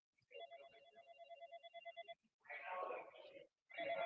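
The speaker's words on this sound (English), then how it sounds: "it's someone else's ringing." Phone ringtone trilling in a steady repeated burst for about two seconds, fairly quiet, followed by people talking.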